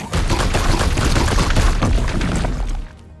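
Gunfire from the video game Warhammer 40,000: Chaos Gate - Daemonhunters: a loud, dense burst of blasts and crackling impacts lasts nearly three seconds, then cuts off abruptly.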